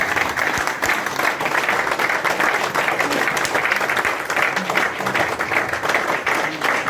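A standing audience applauds at a Christmas event with a speech by Pakistan's consul general: steady, dense clapping fills the whole stretch at even loudness, with no talk over it.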